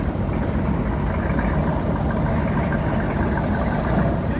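Vehicles roll into an outdoor car show with engines running, producing a continuous loud low rumble of idling and slowly moving motors close by.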